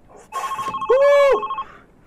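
A telephone rings loudly and close in the horror game Love Sam, giving a single buzzy trill with a rising electronic tone in the middle. No voices come through.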